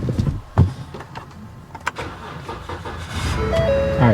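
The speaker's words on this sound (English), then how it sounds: "So let's go ahead and try to fire this truck up." A truck engine cranking and starting after a jump start with jumper cables, loud and close, with a cranking burst near the start, a catch, then a steady idle rumble building toward the end.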